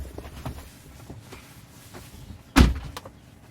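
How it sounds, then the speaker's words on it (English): A single solid thump of a Tesla Model 3 rear door shutting, sharp and fairly close, after a few seconds of quiet interior rustling. "once he closed the door"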